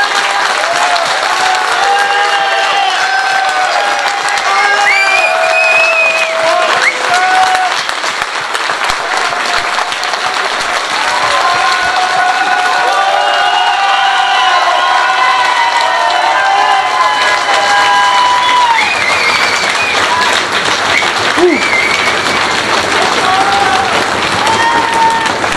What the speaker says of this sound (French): j'aimerais qu'on l'applaudisse très fort